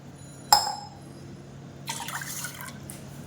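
Water is poured for instant moong dal halwa: a sharp clink of a vessel, then a soft trickle of liquid filling it, close and fairly faint.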